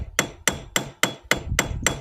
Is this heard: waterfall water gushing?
no